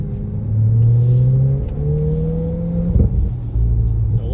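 A 2024 Corvette E-Ray V8 launches hard on a cold, damp Michigan track, the engine note climbing loudly through rising gear pulls with brief shift breaks, heard from inside the car.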